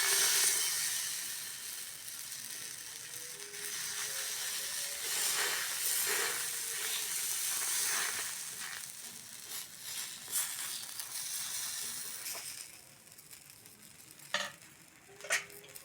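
Vegetables and aubergine sizzle in a little oil on a hot griddle, a bright, steady hiss close by that fades somewhat toward the end, punctuated by a few soft taps, with no talk.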